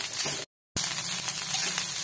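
Grated coconut roasting in a pan for Marathi ukdiche modak filling, a steady close sizzle broken by a brief silent gap.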